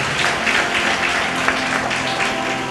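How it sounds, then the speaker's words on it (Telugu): Applause fills a church prayer meeting: a steady, dense wash of many hands clapping, loud and continuous throughout with no clear pauses. "గట్టిగా చెప్పట్లు"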